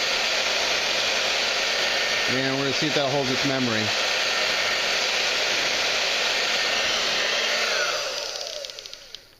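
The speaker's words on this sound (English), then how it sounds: "I just pushed my hairdryer to cool instead of heat." A handheld hair dryer switched to its cool setting blows with a steady, loud broadband whoosh for most of the clip, with a brief voice speaking over it before the airflow winds down and cuts off near the end.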